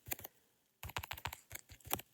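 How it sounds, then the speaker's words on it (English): Rapid taps on a tablet's on-screen keyboard, a quick pair of clicks, a short pause, then a fast irregular run of close, crisp keystrokes with no voices. "double tapping brings up your keyboard, and you can type in what you can see"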